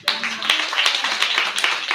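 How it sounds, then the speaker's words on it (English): A small audience at a health technology conference applauding, brisk overlapping hand claps close by that start abruptly and carry on steadily for two seconds. "Another round of applause for Jasmine."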